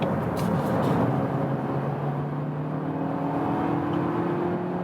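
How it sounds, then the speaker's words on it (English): Kia ProCeed GT-Line accelerating on the road from about 70 to 100 km/h, heard from inside the cabin as a steady engine drone and rising whir over heavy road and wind noise. "see what about the acceleration when I'm already on speed, so about 70 kilometers to 100"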